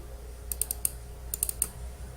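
Two quick pairs of mouse double-clicks while turning a view to face a wall in drawing software, sharp and close, with a short pause between the pairs and a quiet room behind them.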